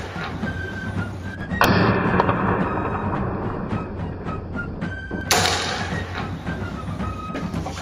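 Lee Enfield rifle firing a blank cartridge to launch a tennis ball, two sharp loud reports a few seconds apart, each followed by a sustained rushing noise that fades slowly.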